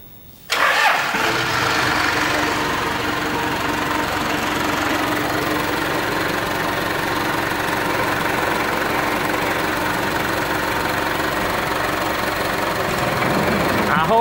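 A Toyota Bandeirante engine cranks and catches after a brief pause, then settles into a steady, loud, close idle with a low rumbling drone that runs on without interruption.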